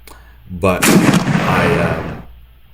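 A tank gun fires in the video game Armoured Commander II, a single loud booming blast with a sharp onset that rolls and decays over about a second and a half, heard alone with no talk.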